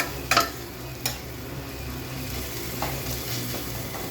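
Garlic and green chillies fry in oil with a constant close sizzle, broken by a few sharp clinks and scrapes of stirring near the start.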